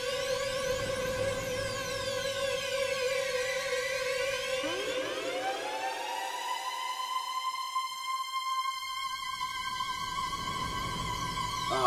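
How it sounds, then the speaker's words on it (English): An electronic synth tone, a preset called Sparkle Siren, with sweeping, rising and falling siren-like pitch glides over a sustained chord, ending with a bright upward swoop. "there's this sound at the end called Sparkle Siren"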